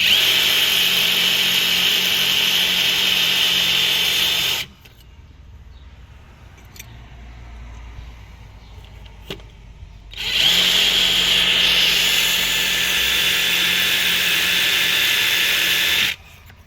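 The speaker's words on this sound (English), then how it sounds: "it's kind of like an impact drill here" An impact drill boring into masonry whines loudly and steadily for several seconds, stops for a quiet pause with small taps, then starts again for another long run.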